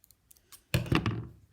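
Scissors scoring and snipping through craft material for a beach chair phone holder, a few faint clicks early on, then a louder run of close cutting strokes.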